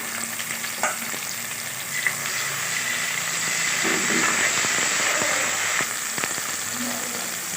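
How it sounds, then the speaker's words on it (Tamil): Country chicken biryani base of ginger and garlic sizzles steadily in a hot pan, a continuous close frying hiss with occasional stirring scrapes and clinks and no talking. "இஞ்சி பூண்டெல்லாம் நல்லா வதங்கிடுச்சு."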